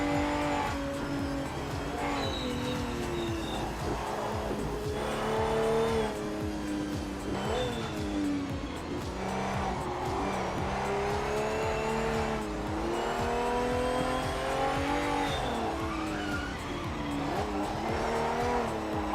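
Race car engine and tyre noise from the PMR racing game, with intermittent tyre and brake squeal rising over a steady, loud engine drone throughout.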